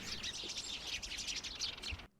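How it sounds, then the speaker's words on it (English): A flock of Eurasian tree sparrows at a suet-rubbed tree in extreme cold chirps busily in overlapping, bright twitters, with a few blue tits among them, before the calls stop abruptly all at once. "It was mainly tree sparrows, Eurasian tree sparrows."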